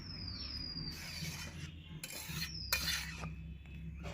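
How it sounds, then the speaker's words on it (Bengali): Metal lid set onto a pot of boiling banana flower in a home kitchen: a few faint metallic clinks and scrapes with brief taps, over a low background hum. "এবার ঢাকাটা দিয়ে দিচ্ছি।"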